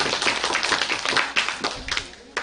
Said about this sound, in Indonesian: Oke, beri aplaus untuk mereka.